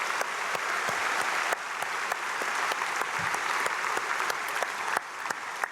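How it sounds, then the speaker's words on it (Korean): A church congregation applauding steadily for several seconds during an early-morning prayer service, dense and even clapping with no voices over it. "크게 박수로 축복하겠습니다"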